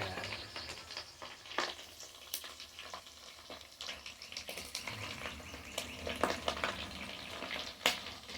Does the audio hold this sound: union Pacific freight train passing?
no